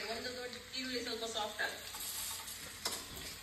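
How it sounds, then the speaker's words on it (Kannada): Chopped onions fry in ghee for a chicken sukka, a busy crackling sizzle with bursts of spattering, while a voice murmurs faintly underneath early on. "ಇದು ತುಪ್ಪಕ್ಕೆ ನೀರುಳ್ಳಿ ಹಾಕಿ ಫ್ರೈ ಮಾಡಲಿಕ್ಕೆ"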